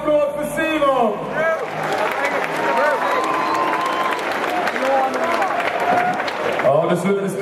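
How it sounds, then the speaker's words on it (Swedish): A large crowd claps and cheers continuously, with a voice speaking over the start before the applause swells and carries on. "En stor applåd"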